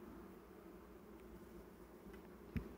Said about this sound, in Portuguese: Olha as abelhas, como que tá tranquila, galera.